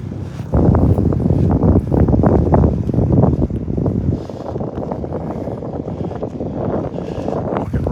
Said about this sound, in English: Walking right into that wind now.